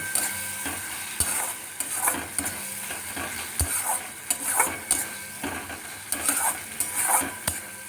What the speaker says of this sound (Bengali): এবার এটাকে এখানে দিয়ে দেবো দিয়ে আবারও বেশ কিছুটা নাড়িয়ে চাড়িয়ে নেব